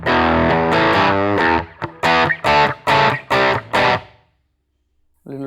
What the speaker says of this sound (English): This is the overdrive amp. So let's hear. Just increase the gain.